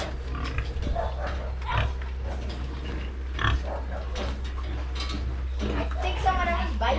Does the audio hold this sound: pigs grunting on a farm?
yes